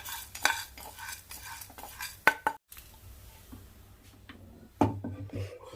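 Ingredients for stuffed bitter gourd stirred in a frying pan, a spoon scraping and clanking against the metal in uneven strokes with a few sharp knocks over a soft background, with no talking.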